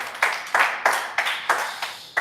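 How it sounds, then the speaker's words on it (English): An audience at a live wellness talk claps in a steady, rhythmic unison beat, about three claps per second, moderately loud and without talk. "Let's give a big round of applause for it."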